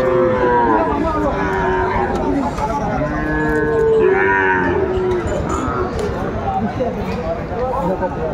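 Sahiwal calves mooing at a busy cattle market, several loud drawn-out calls close by, with crowd chatter and bargaining voices throughout.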